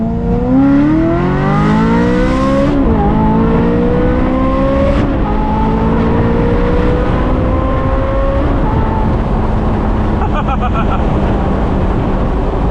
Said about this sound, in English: Under full throttle, those shifts are legit. Like, it shifts pretty hard under full throttle.